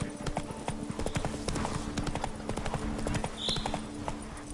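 Hooves pound quickly and constantly as Roach gallops in The Witcher 3, the clip-clop rhythm close and prominent over a dense game soundscape.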